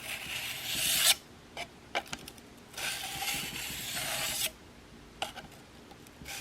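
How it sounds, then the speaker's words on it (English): A broadhead blade is stroked across a 2500 grit sharpening stone in quiet, close-up passes: a few soft rasping rubs, with two longer stretches of scraping separated by brief pauses and light taps. "I'm going to do a few strokes at 2500 grit"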